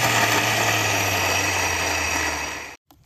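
An electric blender runs on orange peels with a little water, a loud, steady motor whine with a low hum that holds for a few seconds, then cuts off abruptly into silence.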